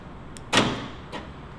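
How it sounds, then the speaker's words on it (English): Door locks on a Mazda Miata fitted with an aftermarket keyless entry system actuate with a short click followed by a sharp mechanical clunk, then a fainter second click, close by and without talk. "So let's go ahead and lock this baby."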